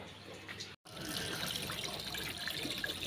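Water splashing into a kitchen wash basin being rinsed, a continuous close running-water rush after a brief gap, with no speech.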